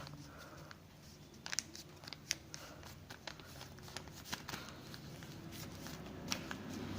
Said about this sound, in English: Now take this one and fold it to the half